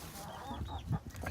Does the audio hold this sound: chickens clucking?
yes